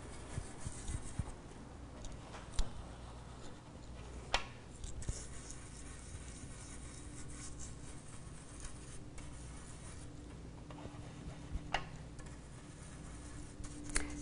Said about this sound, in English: pick up some ink on my stencil brush, and start laying it down